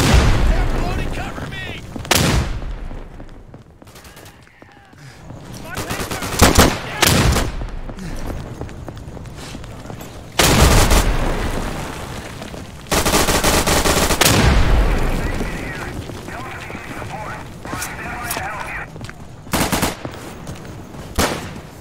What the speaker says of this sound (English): Heads up! Throwing grenade!